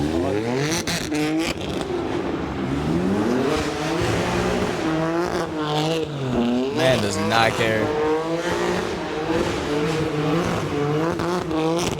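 A car revs and accelerates hard on a city street late at night, its engine note climbing and falling in repeated sweeps with brief tire squeal, loud and close, while people talk over it.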